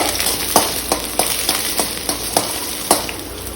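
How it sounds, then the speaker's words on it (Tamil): Chopped ginger and ten garlic cloves sauté in a pan for a traditional fish curry. A continuous hot sizzle carries regular, close spatula scrapes and taps roughly every half second. "10 பல் பூண்டு, அதையும் போட்டுறோம். நல்லா வணக்கிட்டு"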